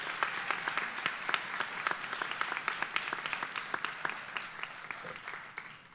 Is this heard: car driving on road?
no